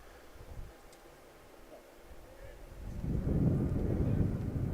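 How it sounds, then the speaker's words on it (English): Low, rushing wind buffets the microphone at an outdoor baseball game on a windy, overcast, cold day in Chanute, Kansas, starting faint and swelling into a steady roar in the second half, with no talking. "Windy, overcast, cool/cold day"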